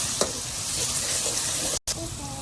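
Bitter gourd curry sizzles steadily in a pan after salt is added, a loud, close, continuous frying hiss with a brief cut near the end.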